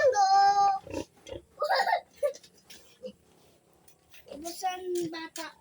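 A pig grunts and oinks in short bursts while a person talks nearby, with the animal calls and voices alternating across the stretch.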